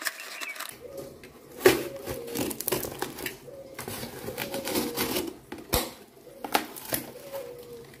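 Plastic bags holding live fish, bought as red Channa maru snakeheads, are handled up close: a run of crinkling, rustling and tapping bursts at an irregular rhythm, with no talk over them.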